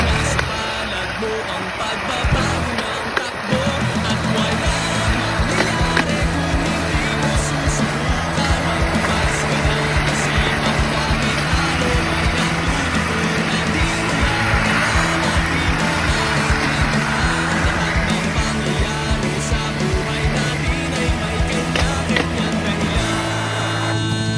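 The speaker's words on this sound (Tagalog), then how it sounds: "panoorin na natin ang kasipagan ni kuya at ang pagod niya sa pagtutulak nitong trolley" Hand-pushed rail trolley rolling along railway tracks, with a steady low rumble and clatter of wheels on rail sustained throughout at close range, and scattered voices over it.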